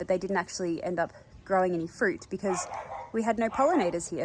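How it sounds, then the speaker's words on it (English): A dog barks and yips in the background, quick sharp bursts mixed under someone speaking in a garden. "I'm sorry about the barking dog."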